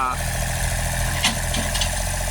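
A tractor engine runs at a steady, close idle with an even low throb, while a person talks over it.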